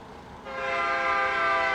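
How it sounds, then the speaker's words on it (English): A passing train's horn sounds a sustained, loud tonal blast that swells in after a moment of rumbling, close by. "Really loud train."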